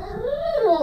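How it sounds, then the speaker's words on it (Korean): A dog whimpers from separation anxiety, a thin rising whine that swells and wavers for under a second, close by and with no talking. "들리시죠? 낑낑거리는 거."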